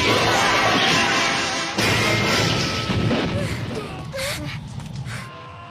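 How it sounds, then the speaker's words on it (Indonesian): In a Go Rangers action film, two swords clash and set off a huge explosion: a loud crashing boom and rumble that fades into lingering debris and scattered thuds. "Ketika dua kekuatan pedang beradu, ledakan dahsyat pun menggema."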